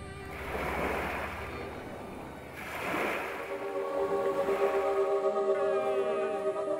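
Surf washing onto the beach at Ropa in East Flores, swelling in two slow surges and then settling into a steady wash, with a faint engine-like hum in the background.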